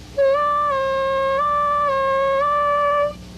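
A harmonica sustains a single 4-draw note that bends down and back up several times, clear, loud and close, holding steadily for about three seconds before stopping.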